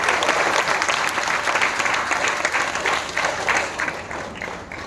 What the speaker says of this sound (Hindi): अगर प्रतिनिधि नहीं है तो उनका भी हम तालियों से स्वागत करेंगे।